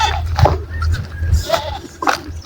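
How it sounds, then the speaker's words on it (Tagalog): A goat on a farm bleats several times in short nasal calls, close and fairly loud, with a low rumbling background between cries. "Tapos ito yung kambing ko."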